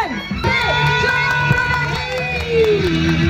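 A crowd at a Durga Puja inauguration cheers and shouts loudly for an arriving celebrity guest. The dense roar of voices and whoops carries on without a break.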